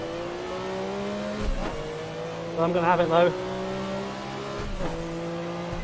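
A Group C race car engine in a sim racing game drones steadily with shifting pitch and a brief burst of revving, while someone talks over it.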